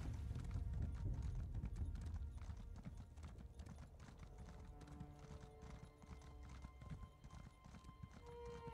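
Horse hooves clip-clop steadily while riding in the video game Elder Scrolls Online, a continuous trotting rhythm up close over a low rumbling background.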